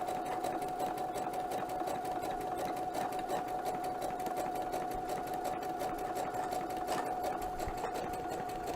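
A sewing machine stitching slowly with a short stitch length, producing a steady, even whirring hum with faint rhythmic ticking, close and continuous throughout.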